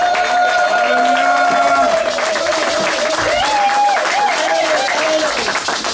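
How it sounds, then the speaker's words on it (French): A church congregation claps and cheers for Jesus during a service, steady loud applause with sustained sung or shouted tones riding over it throughout. "Mais applaudissons réellement pour Jésus."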